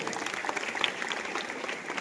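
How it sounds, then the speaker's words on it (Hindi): An audience clapping together, a dense steady patter of many hands at moderate distance, lasting a couple of seconds. "जोरदार तालियां एक बार और अन्ना के लिए"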